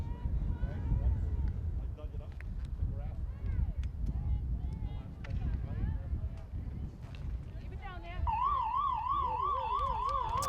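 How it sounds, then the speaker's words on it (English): A wavering end-of-game siren rises in over a noisy crowd and commentary at a high school field hockey playoff game, loud and sustained after several seconds of general din. "The siren sounds"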